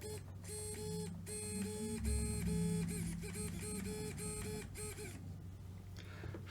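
An AGFRC SA81FHMW high-voltage smart servo running at 7.4 volts whines in steady, repeated motor sweeps, a fairly quiet buzzing tone that starts and stops in regular cycles, heard up close.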